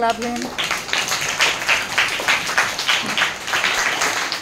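A group of schoolchildren claps for a classmate in quick, rhythmic bursts after a brief spoken voice at the start.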